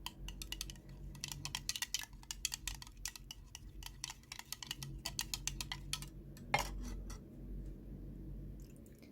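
A spoon stirring a homemade aloe sheet mask mixture in a bowl, giving quiet, rapid clicks and taps against the bowl in an uneven rhythm, close by and faint, with no talking.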